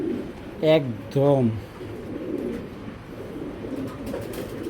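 Racing pigeon cooing close by, two loud throaty coos in quick succession, followed by quieter rustling while someone speaks briefly.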